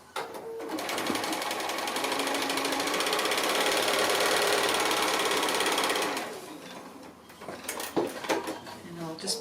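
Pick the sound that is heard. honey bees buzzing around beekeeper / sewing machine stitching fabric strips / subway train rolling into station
sewing machine stitching fabric strips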